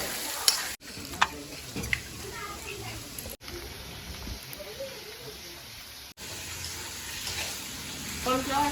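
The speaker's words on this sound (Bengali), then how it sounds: "মাংসটাকে ফ্রাই করা হচ্ছে দই কাতলার জন্য এখানে মশলাটা কষানো হচ্ছে" Meat frying while spice paste is sautéed for doi katla, a steady sizzle with stirring and utensil clinks running through, close by, with voices in the background.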